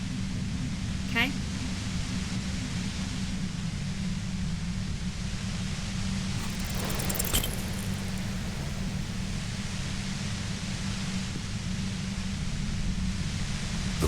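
Harsh, steady white noise fills the space near a compressor in a point-and-click game, a dense hiss holding level throughout with a faint low hum beneath and a brief crackle partway through.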